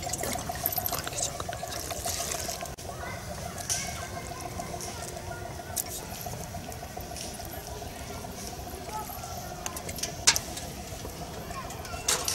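Water is poured onto newly transplanted chilli seedlings in a field in Muzaffarpur, making a continuous soft trickle and splash while people talk.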